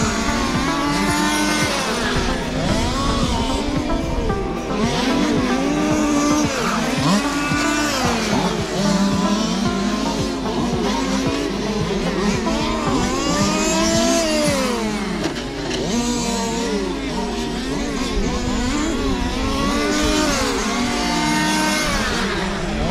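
Large-scale 1:5 RC race cars at the Ulster TT, Craigavon Model Car Club, race around the track, their small engines buzzing and revving in rising, falling whines as cars pass close, with occasional tire squeal, loud and continuous.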